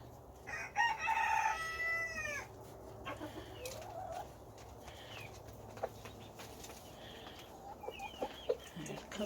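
Backyard flock with a Brahma hen and a rooster: a loud rooster crow near the start over steady background hum, followed by scattered clucks and softer bird calls from the nearby chickens.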